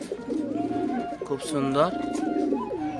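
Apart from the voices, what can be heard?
Madrasi pigeons cooing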